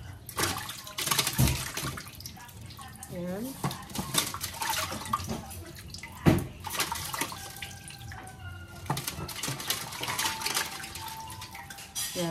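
Running water splashes and trickles steadily as peeled ube is rinsed, with someone speaking briefly over the washing.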